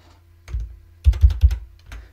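Keys tapped on a computer keyboard while entering a terminal command: a short burst of about six close, crisp clicks in uneven clusters, loud and clear with no talking.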